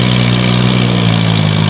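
A Kubota tractor engine runs during field plowing, giving a close, loud, unbroken drone with a steady low hum and no pauses.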